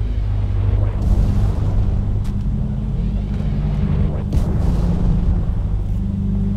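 Mortar explosions in a video game, heard as a continuous heavy rumble with several sharp blasts breaking through, loud and fairly close throughout.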